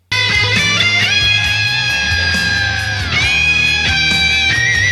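Distorted electric guitar plays a short phrase from a solo, loud and close, with sustained bent notes and slides that dip and rise, alone without voices.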